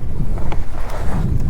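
Strong wind at an open campsite near Gandikota buffets the microphone, a loud continuous low rumble with gusty swells and no talking.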